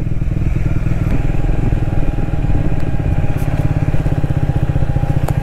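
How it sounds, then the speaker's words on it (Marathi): Motorcycle engine running steadily close by on a mountain road in Nepal between Jomsom and Pokhara, a continuous loud throb with some clatter throughout. "नेपाळी बाईक."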